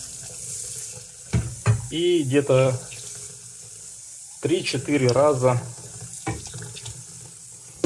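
Tap water runs into a small saucepan to rinse buckwheat in a kitchen, two bursts of filling heard between stretches of talking, fairly close and steady.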